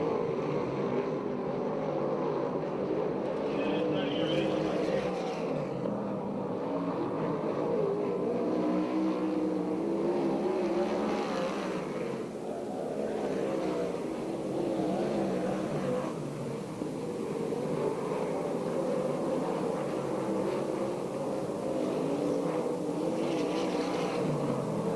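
USAC/CRA sprint cars race in a heat at Perris, California, a continuous loud roar of engines from a distance that swells and fades gently as the field circles the track.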